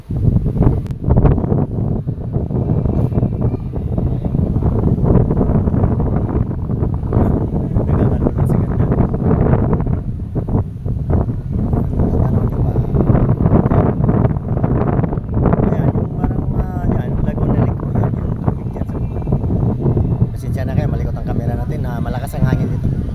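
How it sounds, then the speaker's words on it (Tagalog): Strong wind buffets the microphone outdoors at a resort in Pansol, Los Baños, Laguna, a constant loud rumbling roar with gusts throughout, while a person talks over it. "Malakas ang hangin dito."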